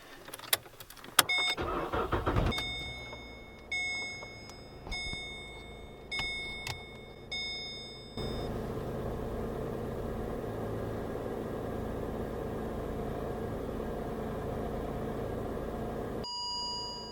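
A Holden VE Commodore engine is cranked after a few clicks and knocks. It catches and settles into a steady, moderately loud idle that runs for several seconds, with a faint high electronic tone above it.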